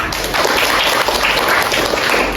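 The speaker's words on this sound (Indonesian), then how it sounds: "Tepuk tangan untuk kita semua." A class of students clapping together at the end of a lesson, loud, dense and close, sustained evenly from start to finish.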